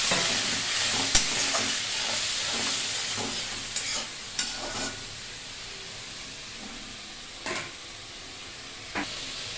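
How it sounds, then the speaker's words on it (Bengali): A pan of bottle gourd and prawns with spices and a little water sizzles softly as it is stirred, with occasional sharp clacks of a spoon against the pan. "জিরে গুঁড়ো, সামান্য একটু জল দিয়ে নাড়াচাড়া করবে।"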